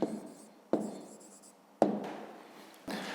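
Pen or pencil writing an answer by hand during a 5th-grade math exercise, heard as a few scratchy strokes separated by sharp taps at roughly one-second intervals, close and fairly quiet.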